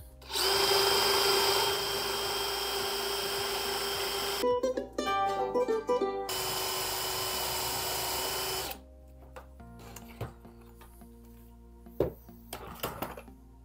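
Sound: drilling holes with a drill bit for bathroom cabinet

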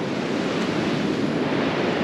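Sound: creek water flowing

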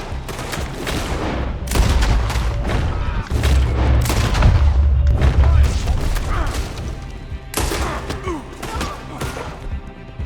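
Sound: gunfire in the video game Red Dead Redemption 2

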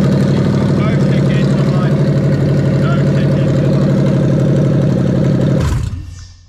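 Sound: car engine starting and idling

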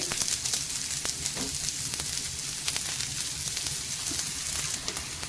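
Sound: leftover-rice vadas frying in oil on a pan

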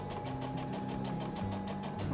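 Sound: sewing machine running during a reform class

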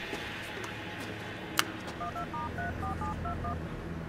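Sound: telephone dialing in a film scene

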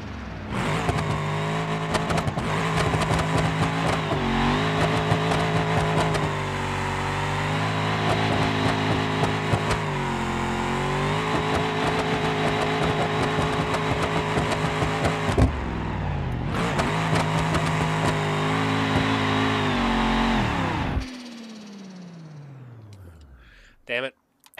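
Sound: car burnout with sequential transmission in BeamNG.Drive video game

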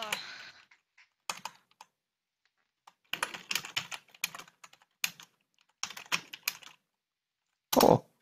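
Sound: typing on a computer keyboard

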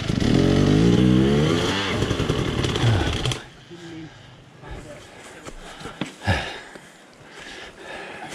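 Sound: motorcycle engine running

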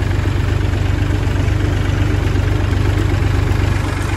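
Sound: combine harvester engine running slowly

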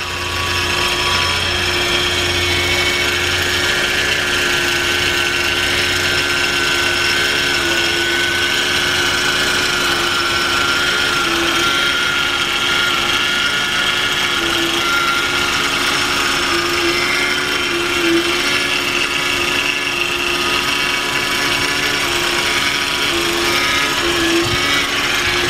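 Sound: 1996 Nissan pickup 2.4 liter engine running

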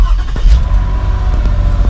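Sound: Toyota Kluger 2006 engine starting after throttle body replacement

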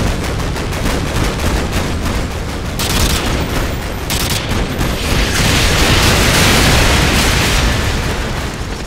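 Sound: artillery strike explosions in the video game Call of Duty: Modern Warfare 2

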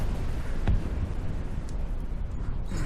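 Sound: cannon-like volcano eruption boom in VRChat disaster game

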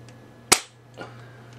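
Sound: airsoft UTG GEN5 sniper rifle shot

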